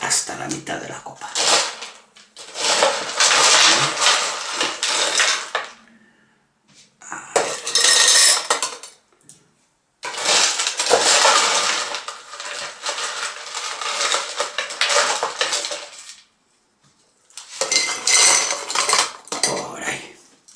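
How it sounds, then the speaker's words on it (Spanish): Ice cubes tumbling into a cocktail glass for mojitos, bursts of rattling, clinking and crunching separated by brief pauses, close and loud, with a voice speaking between the bursts. "Hielo, hielo roto, hielo picado, hielo en cubitos, lo que os dé la gana. Más o menos hasta la mitad de la copa."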